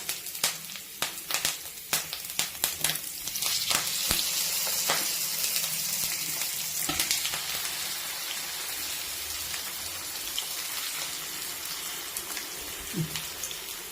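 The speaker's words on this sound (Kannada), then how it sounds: "ಒಂದು ಸೈಡ್ ಫುಲ್ ಬೆಂದ ಮೇಲೆ ತಿರುವಾಕಿ ಇನ್ನೊಂದು ಸೈಡು ಫ್ರೈ ಮಾಡೋಣ" Fish frying in oil with curry leaves, Kerala style: a continuous hissing sizzle with irregular sharp spits and pops, loudest early, then settling to a steady fizz.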